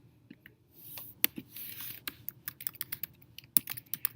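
Rapid, irregular keystrokes on a computer keyboard, a burst of close, crisp clicks typing a professor's name, with a few louder key taps standing out in a quiet room.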